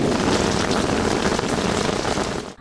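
Heavy rain pours steadily in a flood-prone residential area, a dense, loud hiss of water falling on surfaces that continues unbroken, then cuts off abruptly.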